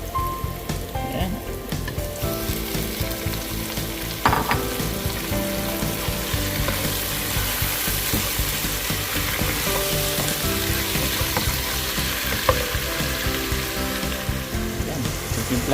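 Tofu and sweet potato sizzle steadily as they fry in a pan for a sautéed pechay dish, with a brief clatter of stirring early on and no talking.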